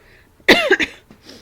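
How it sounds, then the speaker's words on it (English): A single close, loud cough from one adult, a quick raspy burst followed by a softer breathy tail in a quiet indoor room. "I totally jinxed myself on the coughing."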